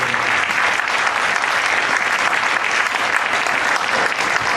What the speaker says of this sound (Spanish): le pedimos un aplauso y que se acerque